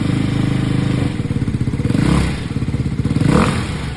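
A Ducati Hypermotard 698 motorcycle engine idles close by with a deep, lumpy rumble, blipped twice into short revs before settling back.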